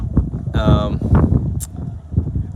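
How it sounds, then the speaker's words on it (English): Gusty wind buffets the microphone outdoors at Perfect Day at CocoCay, a low rumbling roar under a person talking close by. "might get a little windy, guys"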